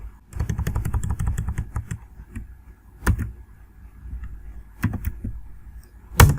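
HTML code is typed on a computer keyboard in short bursts of clicky keystrokes, with a few louder isolated key presses and quiet gaps between them.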